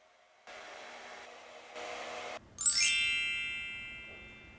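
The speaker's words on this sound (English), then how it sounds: "I have a regular ass hair dryer." A regular hair dryer blows steadily for about two seconds, stops and starts again nearby, then cuts off, and a bright ringing metallic ding with a slowly fading tail follows.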